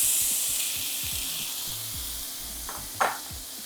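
Frozen onions and fresh mushrooms sautéing in a hot pan give a continuous bright hiss, with soft low knocks of stirring and a brief louder burst of sizzle near the end.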